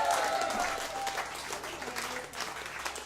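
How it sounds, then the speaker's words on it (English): Audience applause rises at a live music show where a band is on stage. The clapping from the crowd is brief, dense and fairly loud, with a little crowd noise mixed in. "Give them a big round of applause."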